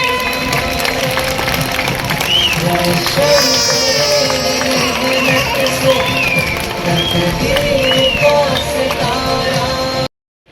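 Applause and crowd noise fill a school's annual prize distribution day, a steady wash of clapping that runs nearly the whole time beneath voices and music, then cuts off abruptly at the end.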